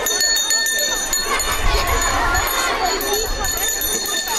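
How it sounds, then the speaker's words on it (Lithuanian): A school bell rings steadily throughout at a primary school's first-day ceremony, under a noisy crowd and voices. "Skambėk pirmasis skambutį."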